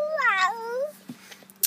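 A voice imitates a cat, giving one drawn-out, rising-and-falling meow, followed by a few faint clicks and a short sharp tap.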